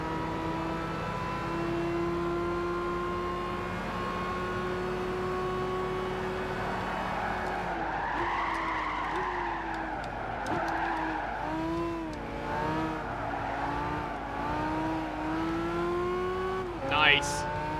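Race cars in the Gran Turismo 5 video game roar steadily while overtaking, engine pitch climbing and dropping through gear changes, with brief tire squeal near the end and a voice talking over the racing.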